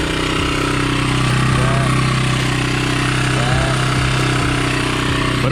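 A C250 motorcycle engine idles steadily up close as it warms, a constant loud throbbing rumble that never stops, with a few faint background noises over it.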